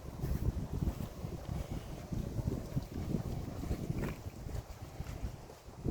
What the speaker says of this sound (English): I do know it's windy